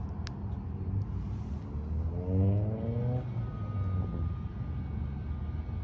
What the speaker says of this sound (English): You can hear the truck lowering.